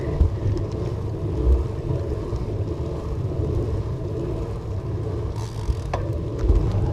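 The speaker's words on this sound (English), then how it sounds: "There's a little bit of wind though" Wind gusting across the microphone while cycling outdoors on a commute bike, a steady low rumble throughout with a few louder buffeting bursts, no talking.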